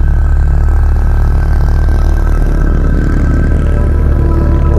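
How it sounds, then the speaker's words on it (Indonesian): Motorcycles revving hard on a street at night, a steady loud engine drone with low rumble running unbroken throughout. "Motor pada kencang gitu."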